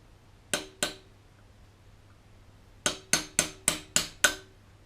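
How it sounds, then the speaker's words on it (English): Eight sharp metallic hammer strikes on a brake pin punch, driving out caliper pins on an MGF/MG TF AP Racing big brake caliper: two blows, a pause, then a steady run of six close, loud impacts. "So I'm going to start off with this punch."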